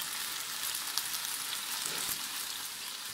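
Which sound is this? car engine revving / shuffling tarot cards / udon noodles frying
udon noodles frying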